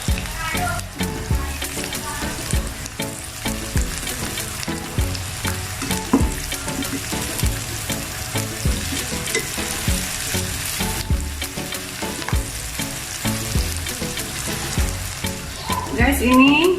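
Salted fish sautéing in a hot pan with sliced kecombrang, a steady close sizzle and crackle of frying running throughout, with occasional clinks of stirring and a louder burst of sizzling near the end.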